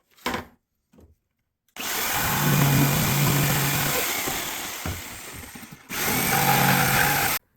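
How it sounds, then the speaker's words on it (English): A jigsaw cuts a profile template for plaster moulding, running in two bursts, a long steady buzzing cut followed by a shorter one after a brief pause, loud and close with no talk. "Cut these with the IOB jigsaw."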